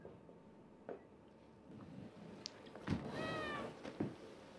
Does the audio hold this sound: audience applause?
no